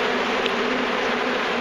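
A swarm of honeybees at an aggressive African killer bee hive gives a loud, continuous, close buzzing drone that stays steady throughout without pause.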